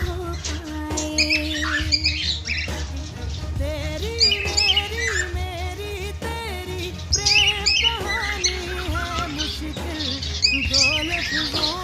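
Big-size pet birds at a bird shop chirp and whistle continuously in bright, overlapping calls, lively and fairly close.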